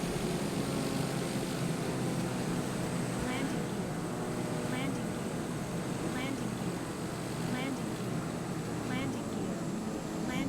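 A fixed-wing airplane engine drones steadily just after takeoff in Microsoft Flight Simulator, a constant loud hum with faint rhythmic chirps over it, unbroken throughout.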